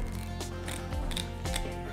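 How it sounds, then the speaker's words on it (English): A good pair of kitchen scissors snips the side fins off a black sea bass being prepared for cooking, several crisp cuts and crunches in quick succession, close and fairly loud. "take a good pair of scissors and take the side fins off"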